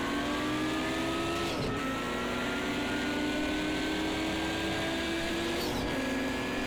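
A GTO race car, a Porsche 959, drones loudly at high revs in Project CARS 2, its engine pitch dipping sharply twice on heel-and-toe downshifts, with no talk.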